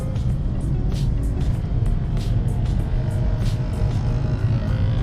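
Steady engine drone of a Mercedes-Benz A250 Sport AMG cruising on a fairly busy road, heard from inside the cabin as a constant low rumble with road noise and no breaks.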